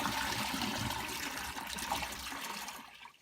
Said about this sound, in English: flush the toilet but hold the handle down to allow all the water out